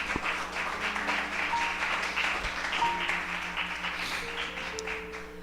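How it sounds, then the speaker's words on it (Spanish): A church congregation applauds during a sermon, a steady, fairly soft wash of clapping that fills the room from start to finish. "Denle un aplauso al Señor maravilloso."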